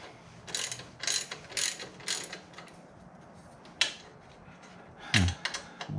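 A ratchet clicks in quick bursts while loosening bolts on an aluminum skid plate of a Honda Africa Twin motorcycle, close up and fairly faint, with a few metallic clanks and taps between strokes and no talking.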